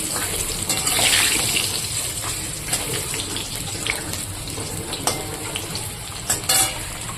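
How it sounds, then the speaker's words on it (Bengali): Steady sizzling of potatoes frying in hot oil until browned, with occasional stirring clinks and scrapes, continuous and fairly close, no talking. "মাংসর জন্য আলুটা ভেজে নিচ্ছি লাল লাল করে"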